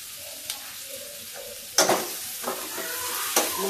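Spices fry in a pan for a Hindi-style curry, a steady close sizzle with sharp stirring scrapes and clatters as the masala is moved around. No one speaks.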